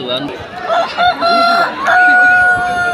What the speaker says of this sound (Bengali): এই যে দেখুন আমাদের মোরগ দুটো।